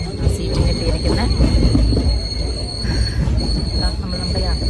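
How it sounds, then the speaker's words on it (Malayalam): A passenger train pulls in at a station platform with loud rumbling wheels and a steady high squeal of braking, continuous and close throughout. "നമ്മുടെ ട്രെയിൻ വന്നുകൊണ്ടിരിക്കുകയാണ്"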